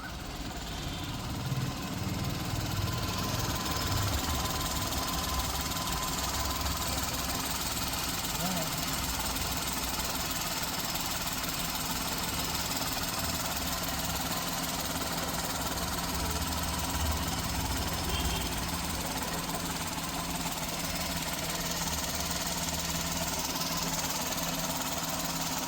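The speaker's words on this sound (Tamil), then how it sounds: "இன்ஜினை ஸ்டார்ட் பண்ணி இன்ஜினோட சவுண்டு எப்படி இருக்குன்றதை வீடியோவில் ரெக்கார்ட் பண்ணி காட்டிடலாம்." A 2016 Maruti Alto 800 LXI petrol engine idles steadily and evenly, a continuous low rumble with a faint ticking rattle, close by and unchanging throughout.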